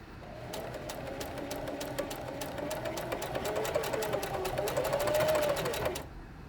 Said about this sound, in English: Now we're going to sew along the line that we just made.